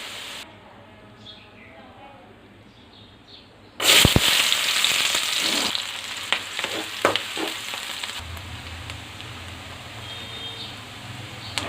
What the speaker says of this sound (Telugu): ఆలు గోల్డెన్ కలర్ వచ్చేంత వరకు వేయించుకోవాలి